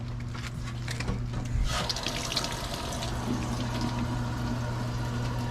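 Steady rushing water pours into an outdoor sink without pause, a constant broad hiss with a low hum underneath, close by and fairly loud.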